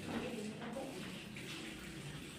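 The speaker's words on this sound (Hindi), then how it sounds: "ये जो पिसा मसाला में थोड़ा इसमें पानी डाल के छोड़ देंगे" Water is poured into ground spice paste while preparing a village-style desi chicken curry, a steady, soft trickling splash running throughout.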